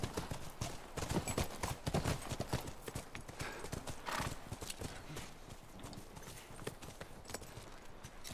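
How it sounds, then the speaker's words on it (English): Horse hooves clip-clop steadily in The Last of Us, a continuous rhythmic trot of several horses heard fairly close, with faint background ambience. "Come on, back to the horses."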